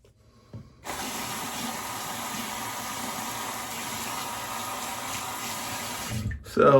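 A SuperCurve honed razor is rinsed under a running tap after a mustache shave: after a brief quiet moment, a steady stream of water pours for about five seconds, then stops with a soft knock.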